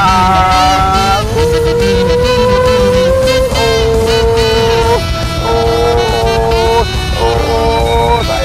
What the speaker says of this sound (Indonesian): Dengarkan raungannya dari sebuah mesin 2500 cc dari BMW Z4.